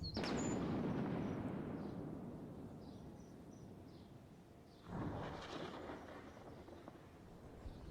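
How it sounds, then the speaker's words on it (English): Thunder from a southern storm rolls loudly at first and slowly fades, then a second rumbling crack swells midway and trails off into a long, low decay. "Oh, listen to that thunder kickoff."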